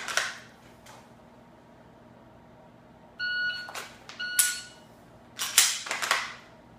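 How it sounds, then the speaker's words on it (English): Sharp dry-fire clicks of a handgun's firing pin, a few isolated snaps spaced seconds apart in a quiet setting, alongside a brief electronic beep. "That way you can hear the click on the firing pin."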